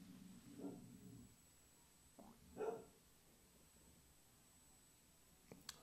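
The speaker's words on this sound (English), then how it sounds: "My dog barks in the background." A dog barking a few times in the background, faint and distant, with short yips spread across an otherwise quiet room.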